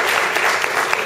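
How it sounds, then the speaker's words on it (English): A short burst of thick applause from the audience at a West Seattle school-district levy meeting, with continuous clapping filling the whole moment. "Give them a huge round of applause"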